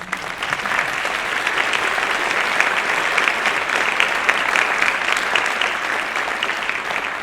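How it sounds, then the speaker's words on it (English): An audience at a ceremony applauds board members who are standing, a dense, even wash of many hands clapping steadily at full strength from start to finish, with no voices over it. "Board members, please give them a round of applause."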